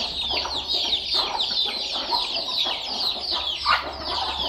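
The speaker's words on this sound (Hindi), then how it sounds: "ये देखें मेरे चूज़े कितने बड़े बड़े हो चुके हैं" Chickens and growing chicks on a village farm in Punjab, Pakistan, clucking and peeping together in a busy, overlapping chorus, close and fairly loud throughout with a steady low rumble beneath.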